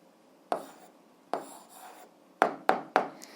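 A pen writes on paper by hand as a math answer is jotted down, giving soft isolated scratchy strokes, two spaced apart and then a quick cluster of three, close and quiet with no talking.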